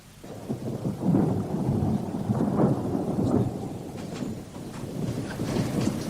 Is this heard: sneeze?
no